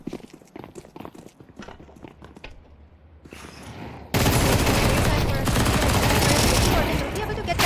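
Counter-Strike 2 gunfire erupts into sustained automatic shooting during a semi-final esports match, loud and dense after a quieter stretch of scattered in-game sounds and footsteps.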